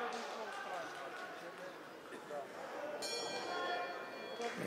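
A ringing gong at a PROFIGHT 16 fight event sounds about two-thirds of the way in with a bright, sustained metallic ring, over steady crowd noise and voices.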